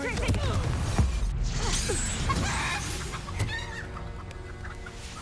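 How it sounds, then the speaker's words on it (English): A spell cast in Hogwarts Legacy sets off a burst of game chicken clucking, with a few squawky bird calls over a busy mix of magical sound effects, and a voice speaks briefly. "It made the chicken sound"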